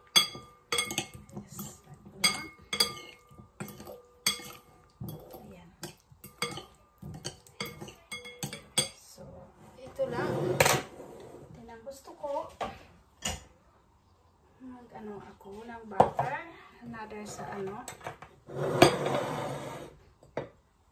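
Food being mixed in a pan of sausages and garden vegetables with utensils, close clinks and scrapes of metal on the pan in uneven bursts, with a few clatters and brief talk in between.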